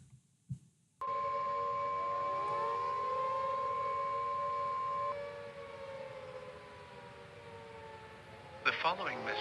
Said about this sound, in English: This is the nuclear air raid siren.